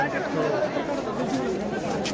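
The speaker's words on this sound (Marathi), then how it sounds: "खूप गर्दी आहे." A large crowd gathered in front of a temple fills the air with dense, continuous babble of many overlapping voices. The steady hubbub is close and loud, and no single speaker stands out.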